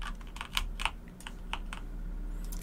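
Keys pressed on a computer keyboard while working in Unreal Engine 4, a scattered run of soft, close clicks with uneven gaps over a low hum, no talk.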